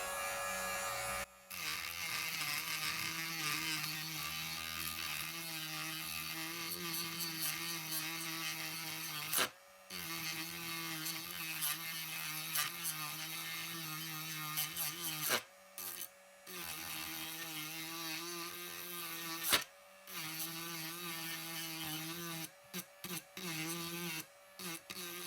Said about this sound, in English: That's taken that surface down quite a lot actually, because it's quite a coarse sanding drum.